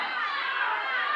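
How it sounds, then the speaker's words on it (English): Pro wrestling arena crowd in a steady, dense roar of cheering and shouting, loud and sustained with no pauses, no single voice standing out. "You hear this crowd."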